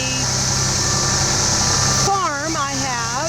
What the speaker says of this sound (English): Jim and Tina and Denny have arrived with the tractor and the tiller